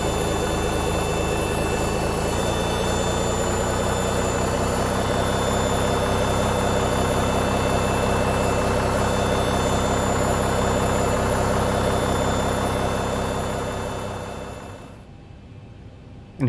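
Boeing 737 engine running in the X-Plane 11 flight simulator, a loud, steady jet drone with whining tones that holds for about fourteen seconds, then cuts off abruptly into near silence, with no speech.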